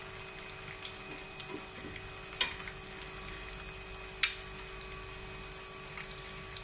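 Raw minced-meat keema tikki patties frying in hot ghee in a pan, a continuous close sizzle and crackle with a few sharp pops and clicks scattered through, no voices.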